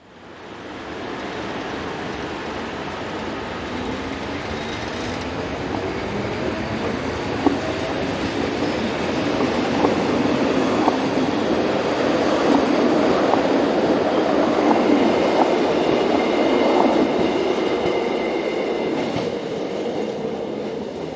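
Golden Pass Classic train rolling past, a steady rumble with rhythmic wheel clatter that builds and holds for about twenty seconds, close and fairly loud, with no voices.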